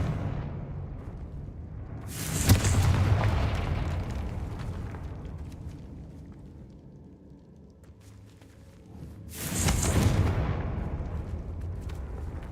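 Two Confringo fire-blast spells go off in the Hogwarts Legacy video game, each a sharp, loud explosive crack followed by a rumbling decay, several seconds apart, with quieter game ambience between them.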